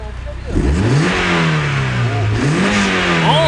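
A tuned 1.6-litre Mazda Roadster engine revs up sharply, rising pitch then holding a loud, raspy drone, with a second quick blip of the throttle near the end.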